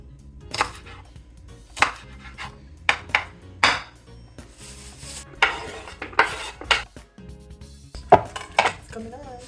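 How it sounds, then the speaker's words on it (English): An onion is chopped on a board for Jamaican oxtail, with a series of sharp irregular knife knocks and clinks close by. "It's time to cut up this onion."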